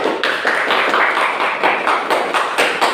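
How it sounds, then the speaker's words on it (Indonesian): Applause in a classroom: many hands clap together in a dense, steady patter that lasts the full three seconds. "Tepuk tangan untuk kelompok 1."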